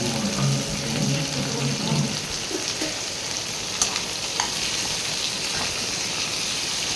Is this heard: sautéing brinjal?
yes